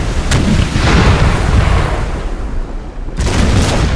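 Warship cannon fire in a Napoleon Total War naval battle, loud booming broadsides that merge into a continuous, rumbling roar with a sharper blast near the start and another near the end, no voices.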